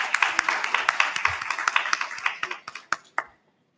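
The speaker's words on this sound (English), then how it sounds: "can I have a round of applause for Professor Rameshan?" A modest audience claps for a speaker at an agriculture conference, a round of scattered, fairly close hand claps that thin out and stop after about three seconds.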